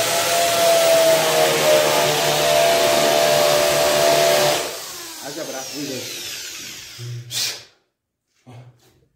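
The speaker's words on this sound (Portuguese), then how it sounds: "Eu vou furar outro, Maral." A power drill whines steadily at a construction site for several seconds, loud and close, then cuts out, leaving scattered clatter and short mechanical bursts.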